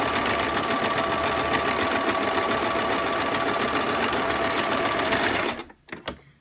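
A Madamsew sewing machine fitted with a stitch-in-the-ditch foot runs a seam, a loud continuous close whir for about five seconds before stopping, followed by a few brief clicks.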